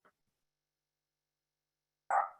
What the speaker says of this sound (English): the dogs are barking also